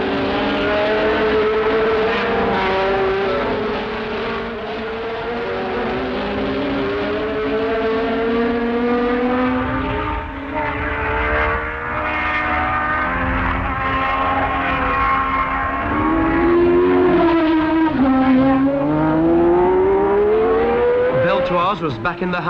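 Formula 1 race cars at the 1973 Swedish Grand Prix roar steadily, their engine notes rising and falling as they pass down the pit straight, with commentary running over the whole stretch.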